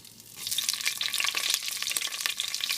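Cumin, pepper, fennel, cinnamon, cloves and cardamom fry in hot oil, a close, steady crackling sizzle that starts abruptly and keeps popping throughout.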